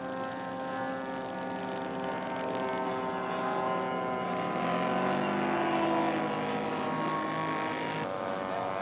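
A propeller-driven scale model airplane flies a touch and go at a scale aircraft show, its engine a steady droning buzz that rises and falls slightly in pitch as it passes at moderate distance.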